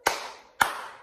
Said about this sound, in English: let's clap first.